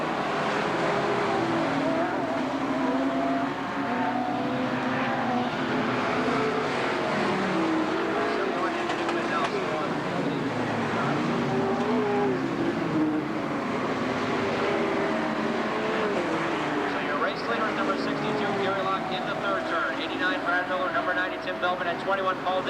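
Sportsman-class race cars at a 1990 EWSCA feature roar around the track in a continuous engine drone that rises and falls as they pass, under an announcer's running commentary.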